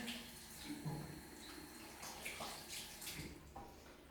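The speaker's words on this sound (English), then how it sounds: "Just wash my hands." Tap water runs steadily into a bathroom basin while hands are washed under it, a soft, close splashing with small shifts as the hands move.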